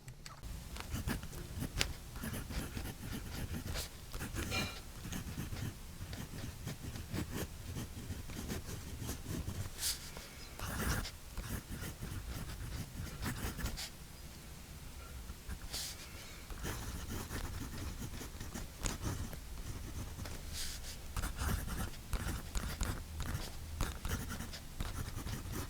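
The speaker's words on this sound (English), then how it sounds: "Let me put ink on paper." A Karas Marmalade Decograph fountain pen's smooth nib writes on paper, a soft, close scratching and swishing in irregular strokes with brief pauses between words, faint and alone without talk.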